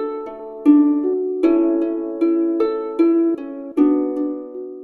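Plucked harp notes from a multi-sampled harp instrument loaded in a sampler plugin, played as a slow melodic sequence of about six notes, each ringing and decaying before the next, clean and upfront with no voices.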